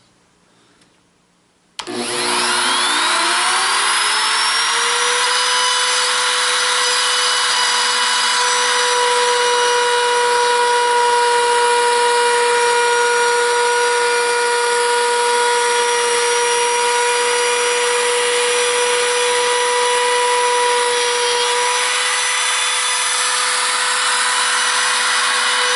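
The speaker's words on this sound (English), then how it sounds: "So I'm going to plunge cut, and because the bit is rotating this way, I want to come toward me." A router spins up on a straight line jig, its whine starting abruptly and rising to a steady high pitch. It then runs loud and continuous while a wood plunge cut is made, with no talking.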